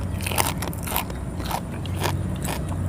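Crispy roasted pork tail is bitten and crunched up close, with loud, crackling crunches and steady chewing, and no voices over the eating.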